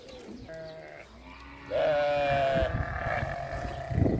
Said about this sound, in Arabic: هذه معزة